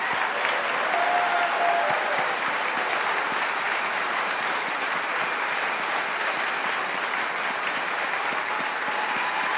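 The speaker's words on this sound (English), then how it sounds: "one last applause for all of our graduates today" A university Faculty of Management convocation audience gives graduates a sustained, dense round of applause, loud and steady from start to end.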